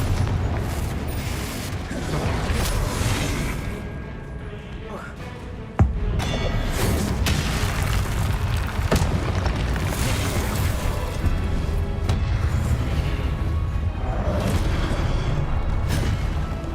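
Repeated spell blasts of Confringo in the wizarding game Hogwarts Legacy, a steady stream of magical bursts and booms with one sharp crack midway, a voice talking over them.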